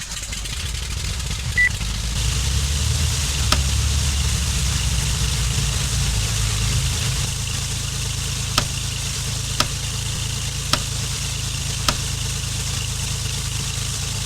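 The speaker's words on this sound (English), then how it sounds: "We can turn on master power, start the engines" Aircraft engines of a Super D-Trel run in a flight game, a steady droning idle that settles after a couple of seconds, punctuated by a few sharp clicks, with no speech.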